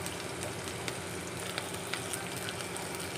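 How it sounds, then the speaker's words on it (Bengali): Chopped tomatoes and green chillies frying in oil for vegetable chow mein, a steady dense sizzle with small crackles and pops, continuous and fairly close. "এবার এগুলোকে সুন্দর করে ভাজবো"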